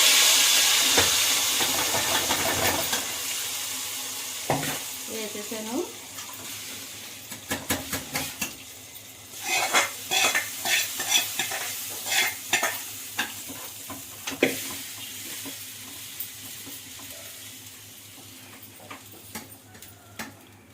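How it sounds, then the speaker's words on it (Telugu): Tempering stirred into dal with chukka kura in a hot pan, a close hiss and sizzle with bursts of rhythmic scraping and clinking from the spoon that come and go over a long stretch. "ఈ తాలింపులు కూడా ఇందులో వేసేసుకుందామండి"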